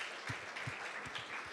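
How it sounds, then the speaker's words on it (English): A small audience applauds for Brett, a faint, steady patter of hand claps with a few louder individual claps standing out. "Big round of applause for Brett."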